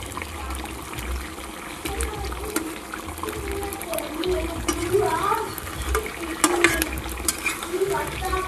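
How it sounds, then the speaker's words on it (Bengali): Meat curry simmers in water in a pot after onions, chillies and spices are fried, giving irregular bubbling and spluttering pops that grow busier toward the end, with faint talk in the background. "এদিকে মাংসটা ফুটছে"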